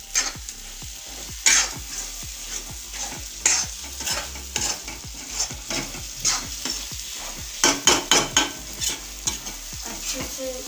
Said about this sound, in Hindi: अब हम थोड़ा सा ऑयल डालेंगे ताकि हमारी अंडे की भुर्जी